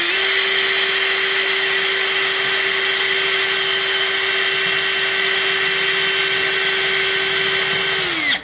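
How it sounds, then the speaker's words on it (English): Makita drill boring a hole in metal, a steady, loud continuous motor whine held for about eight seconds before spinning down at the end. "Let's start drilling this, see how long it takes"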